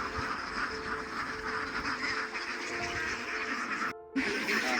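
Dense, continuous quacking from a large flock of ducks on a duck farm of about 7,000 birds, steady and fairly loud throughout with a brief dip near the end.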